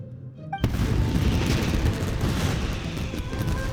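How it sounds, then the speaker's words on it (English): Fireworks burst in the Genshin Impact video game: a sudden loud boom followed by a sustained dense crackling and rumbling barrage of explosions that fills the rest of the moment. "Euthymia, this is turning into a bit of a fireworks display."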